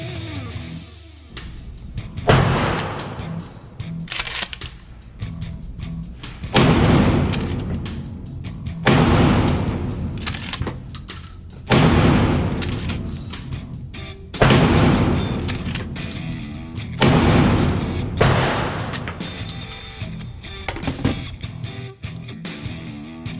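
Shotgun slugs fired at an outdoor range, seven heavy booming blasts spaced every few seconds, each loud and close with a rolling echo tail.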